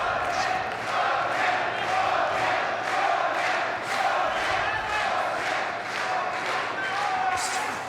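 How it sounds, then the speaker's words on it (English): A crowd at a K-1 rules welterweight Grand Prix kickboxing semifinal chants and cheers in a rhythmic, pulsing roar of repeated shouts, loud and continuous throughout the arena. "The crowd amplifying that with their cheers for Lisii."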